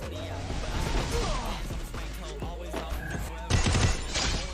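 Gunfire in a shooting video game: rapid bursts and sharp shots crackle throughout, with a louder burst near the end, while a commentator talks excitedly over the action.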